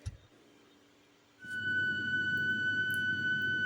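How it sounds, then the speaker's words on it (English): A faulty tap starts up with a gurgle and then holds a steady, high whistling tone with faint overtones, quiet and close. "Taps should not sound like this, but they make great synthesizers when they do."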